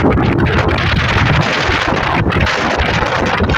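Strong wind buffets the microphone in a constant loud roar, gusty and rumbling with no pauses.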